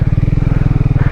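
A motorcycle engine running hard at high throttle on a mountain road ride in Zanskar valley, a loud close pulsing thump with a fast regular beat and no talk.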